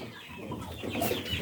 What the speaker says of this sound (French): Vous voyez les dindons.